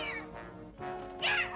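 A cartoon cat from The Smurfs gives a couple of short meows close by, the second one higher and louder, with no other sounds around.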